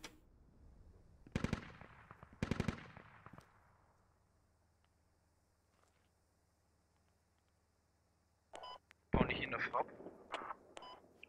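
Infantry gunfire in the Squad first-person shooter game: two sharp bursts early on, then a lull under a low hum, then a fresh cluster of rapid shots near the end, with a voice talking quietly in between.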